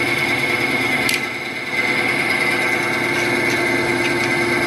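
A bandsaw runs steadily in a home garage, a close, constant motor hum with a high whine, broken by a brief dip and a couple of faint ticks.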